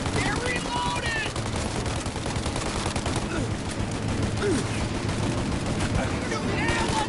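Rapid gunfire rattles through a shootout in Mafia Definitive Edition, dense machine-gun bursts and overlapping shots continuing without a break, with shouted voices mixed in.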